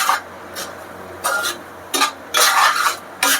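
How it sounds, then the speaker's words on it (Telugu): A spatula scrapes and stirs masala paste frying in butter in a pan for a Mughalai egg curry, giving repeated close rasping strokes in bursts with brief pauses, over a faint sizzle. "ఈ పేస్ట్ అంతా కూడా ఇలాగా మనం బట్టర్లో వేయించుకోవాలండి"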